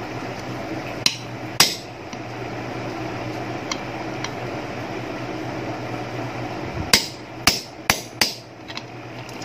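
A hammer strikes a center punch to drive the worn shaft bush out of an air cooler motor, giving a few sharp metallic blows early, then a quick cluster of hard hits toward the end over a steady fan-like hum.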